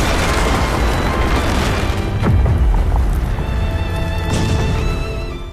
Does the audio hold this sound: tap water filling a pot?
no